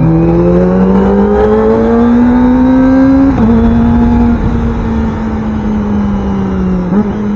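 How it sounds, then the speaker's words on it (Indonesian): A Kawasaki Ninja ZX25R inline-four screams at high revs, then its auto blipper fires quick throttle blips on clutchless downshifts, the engine note stepping down in pitch with sharp breaks between gears; loud and close, no talk. "itu auto bleeper guys, jadi kita turunin gigi nggak perlu pakai kopling lagi"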